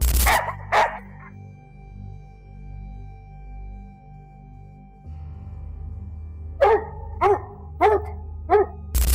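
Several hunting dogs in a Scandinavian forest bark in a quick series of sharp yelps, preceded by a few distant barks, over a low steady hum.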